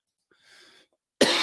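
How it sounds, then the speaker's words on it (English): A single sharp cough from an adult, loud and abrupt near the end, after a brief stretch of faint breathy sound and quiet. "Have y'all noticed that my cough, though I just coughed, has been better this morning?"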